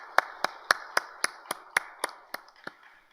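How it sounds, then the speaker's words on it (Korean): Sharp handclaps in a church congregation during a Friday late-night prayer service, about ten evenly spaced, fairly close and distinct, gradually softening toward the end. "우리 수고해 주신 모든 교육자분들께 우리 감사의 박수 한번 하십시다"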